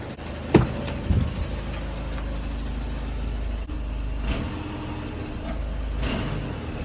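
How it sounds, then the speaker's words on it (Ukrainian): A steady low rumble from the 2.0 diesel engine of a 2012 VW Touran with a dual-mass flywheel problem, a brief sharp rev near the start, idling close by with slight swells in pitch. "навіть хрюкає, коли газую"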